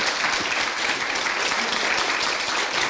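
An audience at a Korean traditional music concert applauds, a dense, steady wash of clapping from many hands that fills the hall evenly for the whole stretch.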